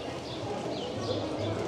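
Hooves of a horse pulling a small cart clip-clop at an outdoor flea market, a soft, steady trotting rhythm set in a low bed of crowd noise.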